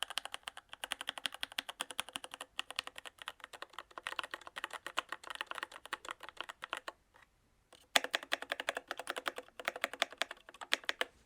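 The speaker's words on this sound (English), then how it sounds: "so that's my keyboard" Fast, steady typing on a computer keyboard, close and crisp, with a brief pause midway before the clicking resumes.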